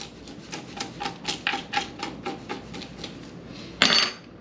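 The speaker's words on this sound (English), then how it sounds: "As you can see, the spoon works just fine for taking off scales" A spoon scraping scales off a whole panfish, a rapid series of about a dozen sharp, close rasping strokes in a steady rhythm, ending with a louder metallic clatter; no talk.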